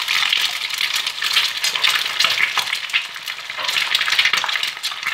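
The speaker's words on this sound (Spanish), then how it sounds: "Tiene que estar bien caliente para que el huevo se fría como ahora vais a ver." Eggs frying in very hot olive oil, a steady crackling sizzle with dense spattering pops that runs without a break, loud and close, with no talk over it.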